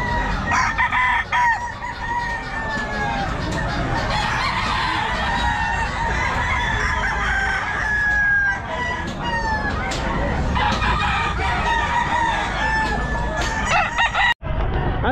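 Kelso bullstag roosters at the Bocaue pet market crow repeatedly, their calls overlapping and mixed with clucking and market bustle, loud and close.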